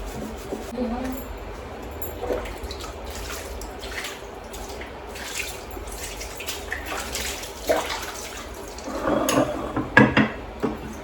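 Temple items and idols being washed with water by hand, running and splashing water with light knocks of metal or wood against a basin, close up, with someone talking over it.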